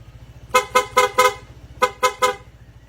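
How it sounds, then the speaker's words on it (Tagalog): Dual PIA horn setup fitted to a Honda PCX160 scooter blares in two quick bursts, four honks then three, loud and close with a rich tone over a low engine idle. "ang kinabit po natin, dual horn setup, PIA horn po"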